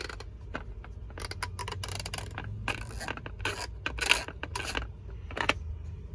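A 3/8-inch long-handle ratchet, greased, its teeth clicking in quick bursts of rough, scratchy ratcheting, close up with no talking.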